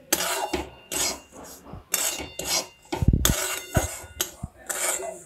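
Semolina being stirred and dry-fried in a pan over medium heat, a series of close rasping scrapes in irregular bursts with a few louder knocks, no talking.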